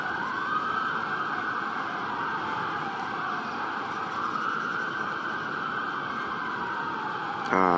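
An emergency vehicle siren wails continuously at a steady, fairly loud level, its tone wavering slowly up and down throughout, with no talking.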